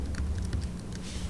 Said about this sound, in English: I'm going to go ahead and type in transitions here